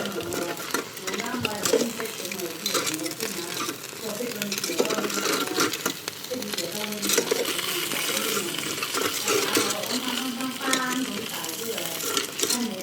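Marinated steak sizzles and spatters in a pan at home, a close, busy frying noise mixed with clattering utensils and stirring, with a voice talking over it at times.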